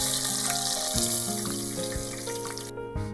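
Continuous sizzling and crackling of Japanese karaage fried chicken deep frying in oil at 180 °C, loud and close, with soft background music underneath.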